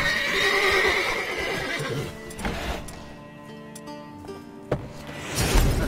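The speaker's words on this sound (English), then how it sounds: "Gotta calm all the horses before they wake the guards" Horses neigh and whinny in The Witcher 3 video game, a loud call at the start fading into quieter snorts and hoof clops, with a couple of sharp knocks and another whinny rising at the end.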